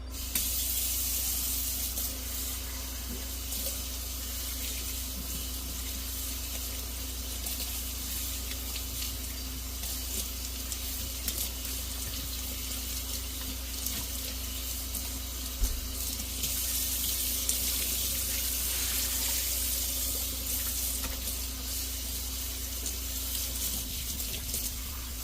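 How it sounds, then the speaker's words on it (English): A water tap runs continuously while tie-dyed fabric is rinsed, giving a steady, close splashing hiss of flowing water that holds at an even level throughout. "Now we're going to rinse."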